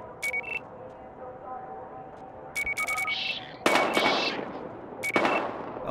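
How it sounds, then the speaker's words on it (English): Bursts of gunfire in the video game Battlefield Hardline, several short rapid volleys spread across the clip, fairly loud over a steady background of game ambience. "We've got gunshots. We're engaging."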